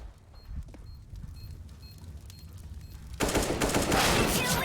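Loud burst of video game gunfire erupts partway through, a dense rattling volley from a shooter game, following a quieter stretch of low background sound.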